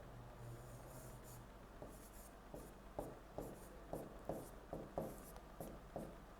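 Pen writing out answer options, a run of short rhythmic scratching strokes, close and quiet over faint room hum, without speech.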